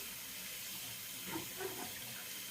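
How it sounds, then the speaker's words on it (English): A tap runs steadily for a hand rinse after shaving foam, a soft continuous hiss of water with a couple of faint splashes as the hand passes through the stream. "I'm going to wash my hand off here, rinse it off"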